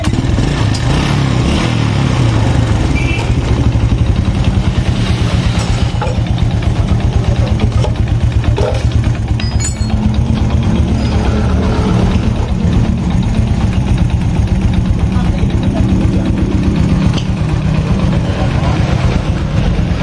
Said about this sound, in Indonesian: Saya kira untuk suara mesin normal lah, nggak berisik.